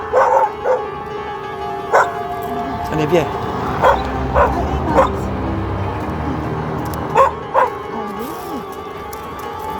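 A dog out on a walk gives several short, sharp barks and yips at irregular intervals, close by, while a person speaks to it in French.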